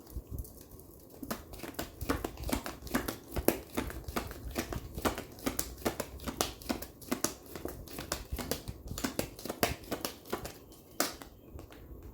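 Tarot cards are shuffled and drawn from a deck in a steady run of crisp, close papery flicks and slaps, repeating briskly with no one talking.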